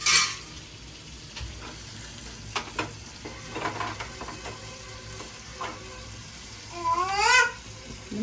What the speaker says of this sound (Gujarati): આપણે ટમેટું નાખીને થોડીક હલાવીએ.